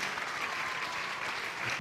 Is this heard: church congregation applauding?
yes